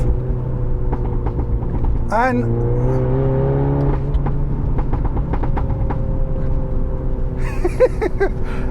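A modified Mini John Cooper Works Clubman engine rumbles steadily, rising as it accelerates around 35 mph, then crackles and pops from the exhaust on lift-off, with someone talking over it.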